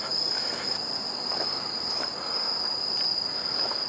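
Crickets chirp steadily on a quiet mountain, a dense high trilling that pulses in a regular rhythm throughout, close and fairly loud with no voices.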